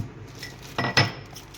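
Raw fruit being split open and seeded for pickle gives a few short, sharp clinks and knocks, like a blade against a metal dish, over a quiet background.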